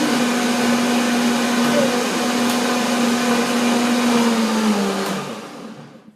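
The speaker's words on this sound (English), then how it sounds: "1 more blending and then it's done." An electric blender whirring through a tangerine cream pie mixture, a loud, steady motor drone with a slight pitch drop near the end before it winds down and stops.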